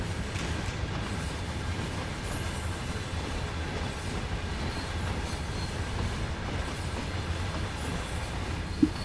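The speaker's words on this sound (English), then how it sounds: "I've now just to wait for this giant train to get out of the way." A long train rolls past in Train Sim World on the Köln–Aachen line, a steady low rumble and rolling clatter of wagons that holds at an even level throughout, with no talk.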